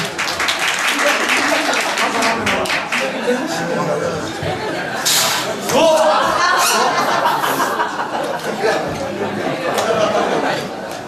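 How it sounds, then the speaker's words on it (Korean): An audience at a year-end party for elementary school graduates claps and chuckles, with scattered bursts of applause and laughter mixed with chatter and voices talking throughout. "박수 좀 주세요."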